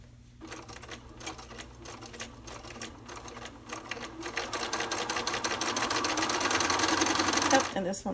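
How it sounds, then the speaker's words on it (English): A sewing machine stitches quilt block pieces together in a fast, steady mechanical chatter that gradually speeds up and grows louder before stopping abruptly. "I'm going to sew them all together just like this."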